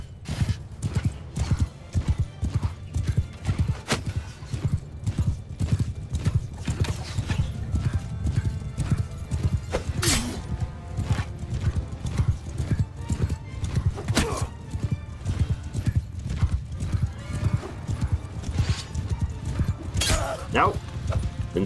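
Horses carrying horse archers in Mount & Blade 2: Bannerlord thunder along in a battle, a continuous rapid clip-clop of many hooves with occasional neighs and whinnies, loud and close, while a voice talks over it at times.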